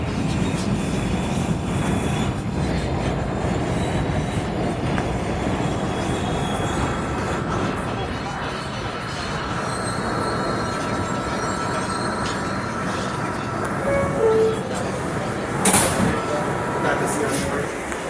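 An R211 F subway train rides from Church Avenue to Coney Island with a loud, continuous rumble of rolling wheels and shrill squealing as the wheels grind through curves, sustained throughout with a brief sharper screech near the end.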